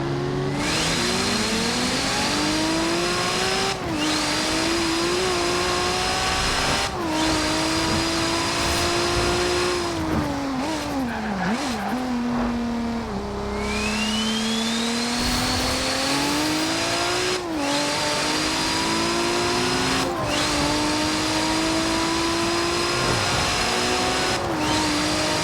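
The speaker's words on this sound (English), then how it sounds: "So you've been able to hear that the skylines do not sound very good" A Nissan Skyline's engine in Forza Horizon 4, with poor-sounding game audio, revs repeatedly in steady, buzzy sweeps up and down, loud and close throughout, with brief shifts and a dip midway.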